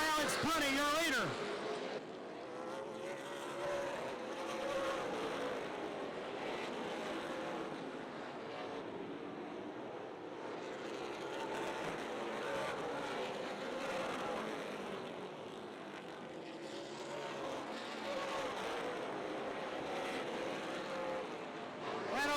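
Super late model race cars roar around Rockford Speedway during a 200-lap championship feature, a sustained engine drone that rises and falls as the pack passes, with an announcer talking over it.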